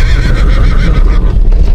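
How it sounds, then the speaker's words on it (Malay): A horse neighs loudly and close by, a single long whinny with shaking, fading pitch, heard on its own in an outdoor setting at Bukit Tagar, Selangor. "Pula ada kuda kat sini."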